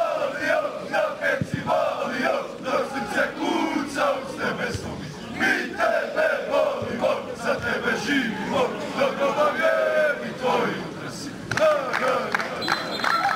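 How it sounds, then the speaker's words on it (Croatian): Visiting Cibalia supporters from Vinkovci chant and cheer from the stands at a football match against Sesvete, a dense, continuous crowd roar with rhythmic shouted chanting, steady and loud throughout. "I odmah stiže naravno i nagrada sa tribina od ove skupine navijača pristiglih iz Vinkovaca."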